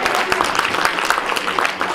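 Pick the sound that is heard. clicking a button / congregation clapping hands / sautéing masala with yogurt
congregation clapping hands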